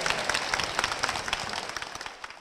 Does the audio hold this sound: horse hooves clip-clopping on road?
no